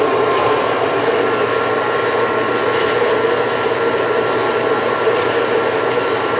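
A bandsaw cuts through metal stock in a machine shop with a steady, loud whining drone that holds without a break, close up and with nobody talking.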